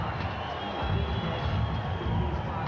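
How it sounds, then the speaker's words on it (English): A boxing arena crowd at a 1999 heavyweight bout gives a moderate, sustained roar of cheers and murmurs, dense and distant-sounding, with no single voice standing out. "It's not an overwhelming cheer, but it's certainly in Tyson's favor."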